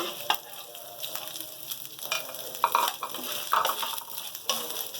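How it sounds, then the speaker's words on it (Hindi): Cumin seeds with ginger and garlic sizzle and crackle in hot oil in a pan, with occasional stirring and scraping of a utensil, fairly soft and close. "अदरक लहसुन के साथ ज़ीरे को हम थोड़ा सा भून लेंगे।"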